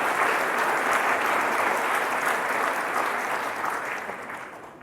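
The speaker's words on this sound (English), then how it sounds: "Give them a round of applause." An audience at a service-dog graduation ceremony in Iowa gives a full round of applause, dense steady clapping that holds strong and then begins to taper off near the end.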